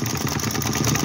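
A small hot air heat engine runs on a reduced flame, making a steady, rapid mechanical chugging that stays even and unbroken throughout.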